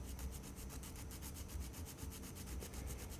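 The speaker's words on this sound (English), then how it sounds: "So I'm going to switch to the diamond file and just go really lightly on it." A diamond file is rubbed lightly back and forth over a small Mini-Z RC car part, giving a steady, close, rapid rasping that repeats in quick even strokes, with no one talking.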